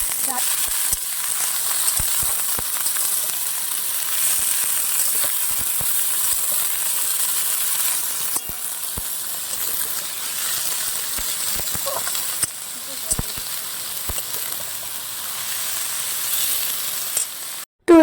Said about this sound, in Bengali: তারপর আমি মুড়ি টুড়ি খেয়ে সবজিগুলো এদিকে সব ভেজে নিচ্ছি